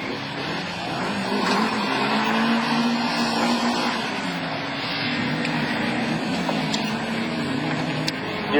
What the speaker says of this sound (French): Elle marche la Honda Civic, hein?